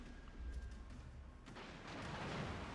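Naval gunfire in World of Warships during a competitive match, with a Gearing destroyer firing: deep booming salvos and rumbling blasts, fairly loud, in quick succession.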